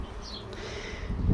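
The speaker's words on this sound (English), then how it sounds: "So here we go. That's the bees there." Bumble bees buzz faintly inside a newly set up hive, a soft close hum with a brief higher whine, followed by a low thump or rustle at the very end.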